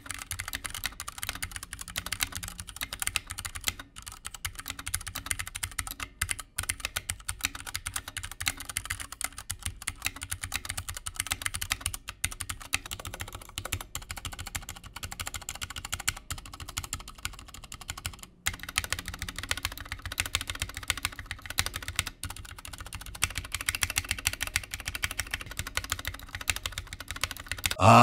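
Continuous typing on a Ducky Mecha Mini mechanical keyboard, a steady stream of crisp clacking keystrokes at close range with no talking, running throughout.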